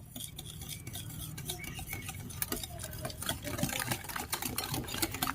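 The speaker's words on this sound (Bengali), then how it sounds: "এখন আমি একটি হ্যান্ড উইস্ক দিয়ে খুব ভালো করে মিক্স করে নেব।" A hand whisk beats powdered sugar into mango cake batter in a bowl. Rapid, continuous light clinking and scraping runs close up throughout, with no talk.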